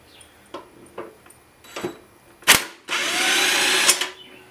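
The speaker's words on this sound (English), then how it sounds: "So that's why I like using a larger impact. It makes things a lot easier." A large impact wrench works off a lawn mower blade with a few short hammering bursts followed by a sustained rattling run of over a second, close and loud.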